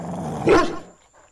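A bulldog lets out a single short, rough growling bark, loud and close, that fades quickly into near silence.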